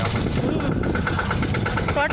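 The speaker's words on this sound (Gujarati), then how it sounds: "ટ્રેક્ટર ચાલુ થઈ ગયું છે" A farm tractor engine, just started, idles with a steady low chugging drone, largely masked by people talking nearby.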